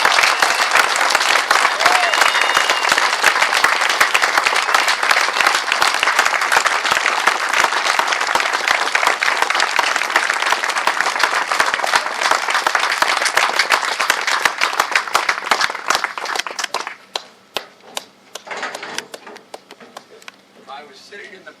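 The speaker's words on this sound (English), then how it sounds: "I could hear a lot of applause for a long time" A crowd at the Alan Freed memorial event applauds Lance Freed, loud sustained clapping for about sixteen seconds before thinning to scattered claps and fading out.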